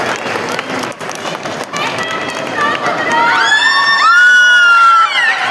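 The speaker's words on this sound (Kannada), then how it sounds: "ಪಾರ್ಟಿಸಿಪೇಟ್ ಜೋರ ಚಪ್ಪಾಳೆ ಬರಲಿ" A crowd at a mall event cheers and claps, the applause and whoops swelling over a few seconds amid shouting voices, with a high whistle-like tone rising near the end.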